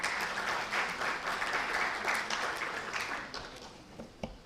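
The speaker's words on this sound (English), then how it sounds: "so we can get another round of applause for the symposium" Audience applause at an international symposium on gut health and lifestyle disorders, a steady wash of clapping from a crowd that thins out toward the end.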